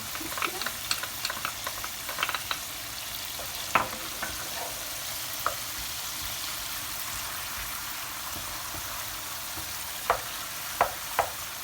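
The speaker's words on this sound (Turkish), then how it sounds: "Bu arada bu ayırdığım tereyağını eriteceğim" Steady soft sizzling of butter melting in a pan with occasional small pops and light scraping clicks, close and fairly quiet, no voices.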